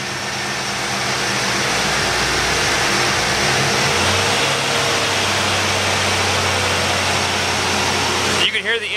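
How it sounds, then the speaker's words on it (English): A 1986 Mustang GT V8 engine runs steadily up close, its hum rising slightly as the idle climbs, with a brief clatter at the end. "You can hear the engine idling up."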